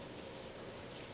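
Steady, even hiss of rain falling, a dense wash of drops with no distinct impacts, moderately faint and continuous without talk.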